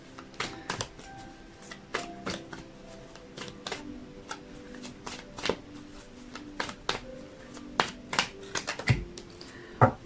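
A tarot deck is shuffled and cards are drawn, making a rapid series of crisp, close snaps and papery flicks in uneven bursts over a quiet background.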